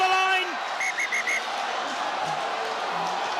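A referee at a women's rugby match between France and Italy blows a quick series of short, sharp whistle blasts over a steady roar of crowd noise in the stadium.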